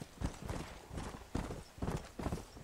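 Repeated hoof clip-clops of a horse in the video game Red Dead Redemption, several steady beats close by, with a faint whinny mixed in and no talk.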